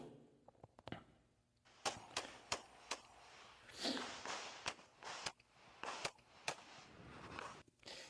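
Pistol shots fired during an IPSC practical shooting stage, a run of sharp, loud, separate cracks at irregular spacing, some closely paired, with faint movement noise between them.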